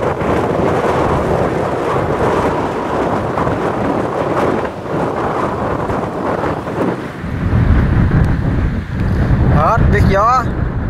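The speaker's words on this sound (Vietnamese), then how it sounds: "Hết biết gió." Strong wind buffets the microphone on a small river barge in southern Vietnam, a loud continuous roar and rumble for the whole stretch, with someone talking under the gusts.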